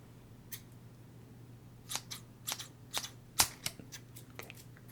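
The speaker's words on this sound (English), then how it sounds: "I'm going to start off with a big pair of scissors" A large pair of scissors snips in a series of crisp, close cuts, scattered single snips early then quicker clusters, over a soft steady hum.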